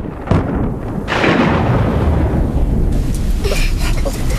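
Cartoon storm thunder in a loud, rolling rumble with a sharp crack near the start and a second surge after a second, sustained heavy noise that tapers off slightly at the end.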